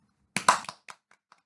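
A short burst of hand claps, a quick cluster of a few close, crisp claps followed by two or three faint, isolated taps, alone in silence.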